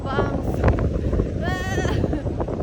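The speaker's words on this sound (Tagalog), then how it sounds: "Guys, ang hangin guys." Strong outdoor wind buffeting a microphone near a market on a Sunday in Canada, heavy low rumbling gusts throughout, with people talking over it.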